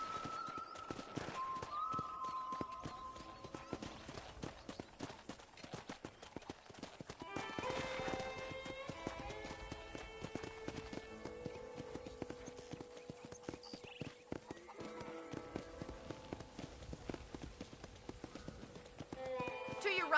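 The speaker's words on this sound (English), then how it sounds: "let's see if you can still ride a horse" Horse hooves clip-clop at a steady riding pace in the Red Dead Redemption video game, a continuous rhythmic trot heard up close, with occasional whinnies and game music or voices alongside.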